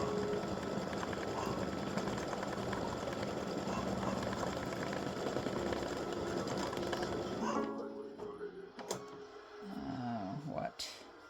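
An embroidery machine stitches an in-the-hoop mug rug side panel with a dense, steady mechanical whir that runs continuously, then stops abruptly near the end, leaving quiet handling noises and a few light clicks.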